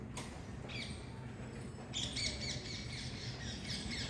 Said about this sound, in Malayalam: ആ തത്തമ്മ വിളിച്ചുകൊണ്ട് പോകുന്നു